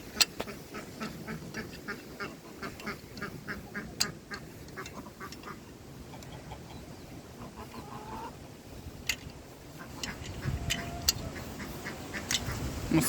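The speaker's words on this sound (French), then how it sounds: "il y a les canards" Ducks on a poultry farm quack in a rapid, repeated series mixed with hen clucking, moderately near and fairly loud, continuing throughout with scattered farmyard noises.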